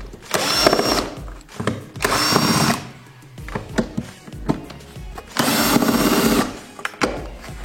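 A power driver with a 10 mm socket whirs in three separate bursts, removing heat shield screws under a BMW E36/E46, with clinks and taps of metal between runs, loud and close.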